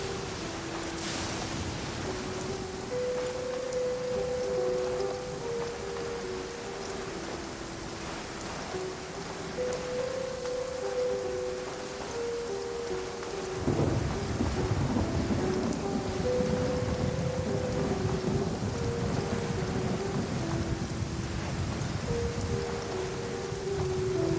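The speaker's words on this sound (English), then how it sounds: "Taking a stroll in the middle of a downpour certainly rouses the spirit." Steady heavy rain pours in a Genshin Impact game scene, with rumbles of thunder rolling underneath and a louder thunder swell midway, while a soft melodic tone plays over the downpour.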